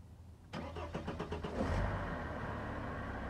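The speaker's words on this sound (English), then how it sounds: "let's start our engine and we will see if it starts" A Mercedes car engine cranks briefly with a quick rhythmic churn, catches, and settles into a steady idle hum, heard close with no talking.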